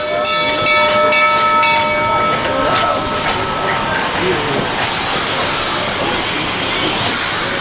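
An 1880 steam train runs between Keystone and Hill City in South Dakota, a loud steady rumble and hiss with a sustained whistle-like tone early on, continuous throughout.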